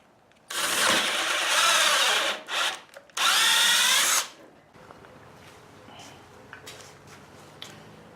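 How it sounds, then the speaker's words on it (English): A power drill bores a hole for mounting bed-frame rollers onto a truck-cab kayak rack, in two loud sustained bursts with a short break between, followed by quiet handling noise. "I'm going to drill a hole and epoxy those in."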